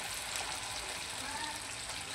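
Masala paste sizzles in butter and oil for a dhaba-style bhindi masala, a steady close frying hiss with a sharp burst of spatter at the very end.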